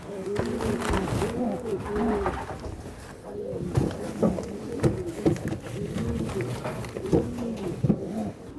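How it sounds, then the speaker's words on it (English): Racing pigeons coo over and over in a loft, soft repeated rolling calls overlapping at close range, with faint rustling and no clear speech. "I think the pigeons are happier on this, as it's not a cold clay"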